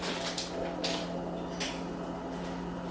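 A spoon stirs a melted butter mixture for Cheddar Bay biscuits in a bowl, giving a few light clinks and scrapes at steady intervals over a constant low background hum.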